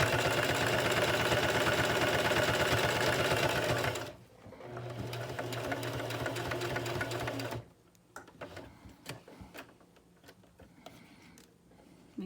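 A home sewing machine stitches fabric for a simple face mask, running in a loud steady burst, pausing, then resuming more softly before stopping, with light handling clicks and rustles of cloth afterward.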